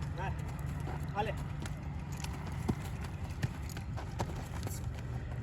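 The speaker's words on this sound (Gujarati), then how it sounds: "અમે ઘોડીને પાછી વાડીએ લઈને જઈ રહ્યા છીએ" A mare's hooves clip-clop at a steady walking pace as she is led back to the farm, moderately close, with people talking over the rhythmic hoofbeats.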